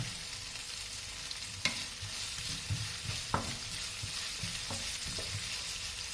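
Beef strips sliced thin with ginger stir-fry in a pan toward golden brown, a steady close sizzle broken by a few sharp scrapes of the spatula, no one speaking.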